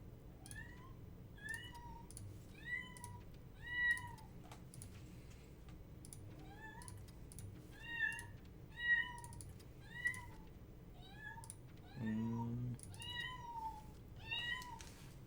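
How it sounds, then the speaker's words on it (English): A new kitten meowing over and over, high thin cries repeating every second or so near a computer keyboard with faint typing clicks, and no one speaking. "You gotta quit meowing, cat."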